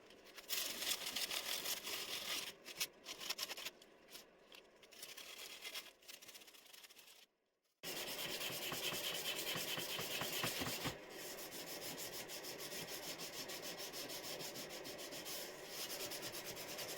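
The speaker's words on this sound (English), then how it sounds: "So I'll give you a few shots of me, in fast forward sanding things" Sandpaper scraping over the metal chassis of a 3.5-inch gauge Invicta locomotive during a rebuild, sped up into a dense, continuous rasping rub that breaks briefly near the middle and then resumes steady and loud.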